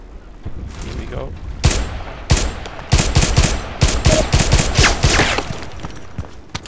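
Single-shot gunfire in the Contract Wars shooter rings out as loud separate cracks at an irregular pace, with a few shots grouped close together and a brief gap before them.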